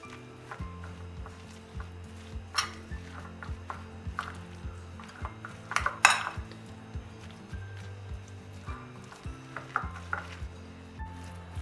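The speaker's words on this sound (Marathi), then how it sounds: "आता हे सगळं आपण एकत्र करून घेऊ" Raw mango dal ingredients with coriander mixed in a bowl for Maharashtrian kairichi dal, a run of small close clinks and scrapes from a spoon against the bowl, steady and fairly quiet.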